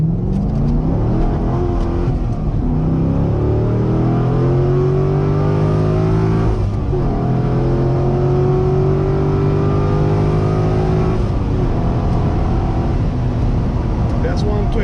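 A 2009 Chevrolet Corvette C6 3LT accelerates hard, its engine heard from inside as a steady loud roar that climbs in pitch, breaking at two gear shifts before rising again.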